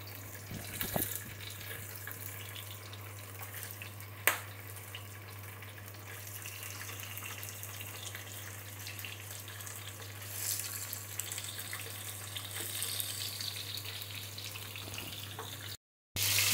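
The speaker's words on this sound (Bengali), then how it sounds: "বেশি করে তেল দিয়ে মাছটা ভাজবেন।" Small hilsa fish rubbed with salt and turmeric fry in a generous amount of oil in a pan, giving a steady, moderate sizzling hiss with a low hum underneath and one sharp click partway through; no voices.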